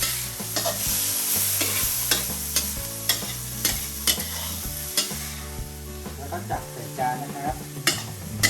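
Shellfish and bean sprouts stir-fried with garlic and fish sauce in a pan, a loud close sizzle broken by repeated scraping, clacking utensil strokes in an irregular rhythm, with no talk.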